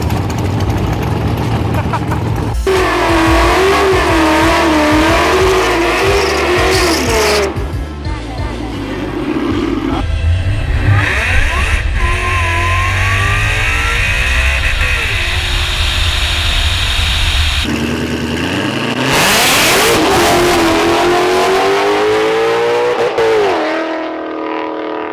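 LSX-powered Fox body Mustang drag car making a quarter-mile pass at Darlington. A loud, harsh engine roar climbs and drops through several shifts, with rising revs and abrupt changes, and stays heavy and close throughout.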